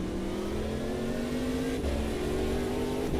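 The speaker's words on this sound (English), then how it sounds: "let me know how my voice compares to the sounds of the cars" Race cars in the sim-racing game Automobilista 2 during a multi-class race, with a steady engine drone whose pitch climbs gradually under acceleration. The sound holds at an even level throughout, with no talk.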